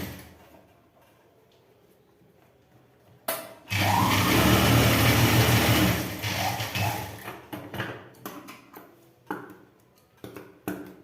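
A sewing machine stitches the edge of a trouser pocket, a loud whirring burst of about two seconds followed by softer, intermittent short runs and clicks of cloth handling, close up.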